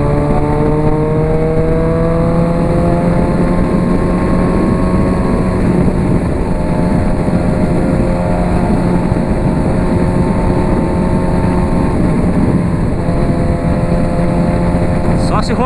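A Honda CB 1000R motorcycle engine on a highway ride, a loud continuous drone with pitch sweeping down and then climbing again as revs flare on downshifts, rushing wind underneath.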